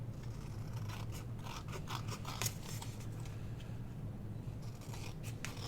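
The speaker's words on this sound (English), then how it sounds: "I want to trim this out because this has got a white border on it." Scissors trim a white border off paper for a scrapbook layout, a rapid series of close, crisp snipping and slicing strokes with no talking.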